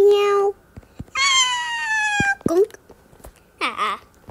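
Two cats meowing in turn at close range, with long drawn-out cries and a shorter wavering yowl near the end, separated by brief pauses and light clicks.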